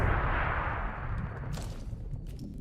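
Gunfire in the video game Atomfall: a loud burst of shots with a booming, rumbling tail that fades, followed by a few fainter distant cracks.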